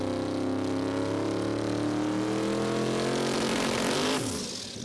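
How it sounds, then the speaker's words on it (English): A twin-turbo Ford Coyote V8 drag car revs hard at a drag and drive event at Willowbank Raceway, Australia, its loud, close engine note climbing steadily in pitch and then dropping off sharply near the end. "got a twin-turbo Coyote V8 in it"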